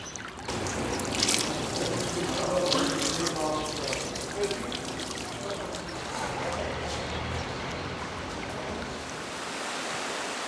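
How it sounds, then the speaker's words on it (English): Hot spring water streams from pipes and cascades down cliffs in Jermuk, Armenia, a dense, steady splashing roar heard close and without pause. "Piping hot waterfalls that have flowed through the cliffs of Jermuk since time immemorial."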